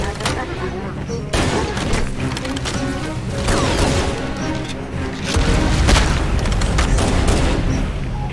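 Grenade explosions and gunfire in the shooter game Halo: Combat Evolved, with heavy booms and rapid bursts of shots over a busy battle din, loud and close throughout.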